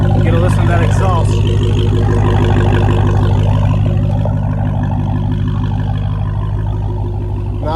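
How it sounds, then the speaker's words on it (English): A 2023 Dodge Charger Hellcat Widebody Jailbreak exhaust rumbles with a deep, loud, steady drone from inside the car, while someone talks over it early on. "Get a listen to that exhaust."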